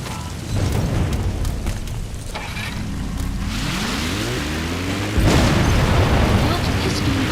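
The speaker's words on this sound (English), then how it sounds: "Boss, did you see that explosion?" A vehicle crash and explosion in Metal Gear Solid V: The Phantom Pain, a loud sustained roar with rumbling booms and a sharper burst late on, mixed with engine noise and a brief voice.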